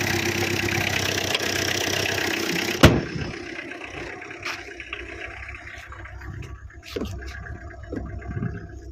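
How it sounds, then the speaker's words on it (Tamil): A 2012 Tata Indica's engine runs with a steady broadband drone that cuts off abruptly after a sharp click, leaving quieter idling hum, faint clicks and low rumble. "வாங்க இப்போ வண்டியை ஓட்டி பார்ப்போம்."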